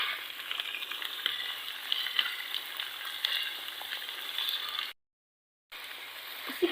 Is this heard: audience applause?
no